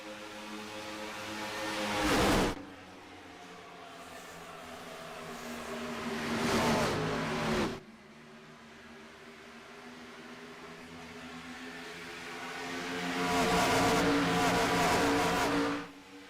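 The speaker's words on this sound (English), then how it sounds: "as Chad Simpson leads the entire field off of turn number 4 and across the line to lead his first lap of the night" Race cars in a FUEL Premiere Series finale night race at Auto Club Speedway roar past in three separate waves. Each engine swells loudly as it nears and then cuts off sharply as it passes.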